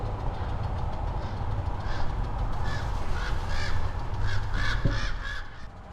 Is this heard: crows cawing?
yes